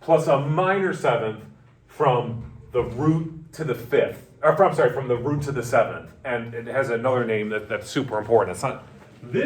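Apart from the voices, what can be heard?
No everyday noises stand out.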